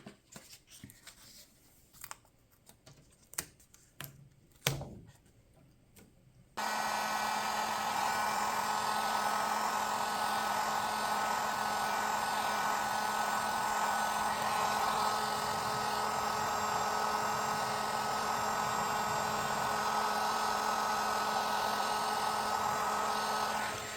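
Crafting heat gun blowing on raised stencil paint on a desk, preceded by a few light clicks and taps, then switching on to a constant loud airy whoosh with a steady motor hum that runs unbroken to the end.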